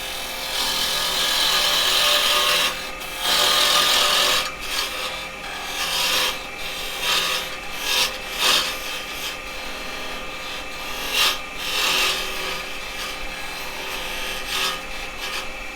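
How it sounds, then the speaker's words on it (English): A parting tool scrapes and rasps against a wooden mallet spinning on a wood lathe, coming in bursts of harsh cutting noise with brief lulls between passes, close and loud. "what I'm going to do with that is I'm going to come in with my parting tool"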